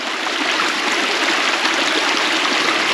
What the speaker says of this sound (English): That's got to be a stream.